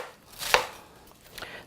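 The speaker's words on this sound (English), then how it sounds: "So let's start chopping pretty fine." A knife chops fresh garden lettuce finely on a cutting board in a home kitchen, one sharp close cut standing out, then a softer second stroke after a pause, with no talking.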